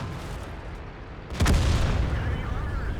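A single loud tank cannon blast in a World of Tanks-style battle, booming sharply about halfway through over steady engine rumble and ambient battle noise, with a lingering low rumble afterward.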